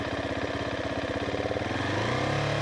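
A motorcycle engine, either a Husqvarna 701 Supermoto or a Ducati Hypermotard 950, idles with a steady mechanical pulse, then the throttle opens into a sustained higher rev. It is close, loud and alone with no voices.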